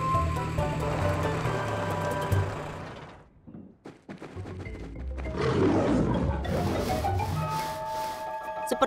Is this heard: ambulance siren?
no